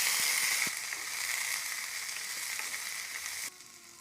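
Onions hiss loudly in hot oil, with an initial burst of sizzling that settles into a steady frying crackle and then drops sharply quieter near the end; no voices.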